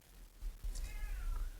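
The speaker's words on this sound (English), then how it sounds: "my cat's meowing back" A cat meows twice, short rising calls answering a person, over a low background rumble, fairly close but not loud.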